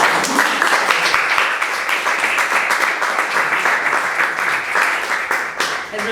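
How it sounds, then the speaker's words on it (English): A steady round of applause from a small group, clapping evenly and fairly close for several seconds without pause. "Can we just have a round of applause for that?"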